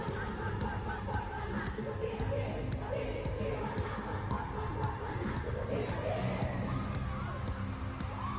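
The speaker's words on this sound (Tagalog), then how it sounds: "The crowd goes wild." Concert crowd at a dance performance showdown, a dense, steady roar of cheering and shouting voices with scattered whoops, sustained loud throughout without pauses.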